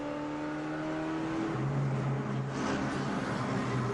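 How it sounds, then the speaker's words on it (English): Onboard an IROC race car at Richmond, the engine drones steadily at high revs, its pitch shifting as the car lifts and accelerates through the corner, loud and close throughout. "This is a look from our points leader, Mark Martin, in the 6 car"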